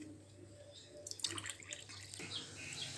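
Lemon juice pours into a tumbler with a soft, trickling splash that starts about a second in and keeps going at a modest level, close by and without any voices.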